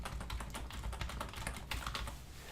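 Steady, rapid keystrokes on a computer keyboard while entering a reason for approving a travel request, a continuous close clatter of quick taps with no talking.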